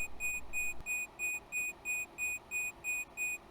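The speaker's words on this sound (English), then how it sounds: "the beeping is to let me know that I am descending with my brakes on" In AeroFly FS2, a glider cockpit warning for descending with the airbrakes out sounds as a steady series of short, high electronic beeps, about eight evenly spaced, fairly faint, with no talk.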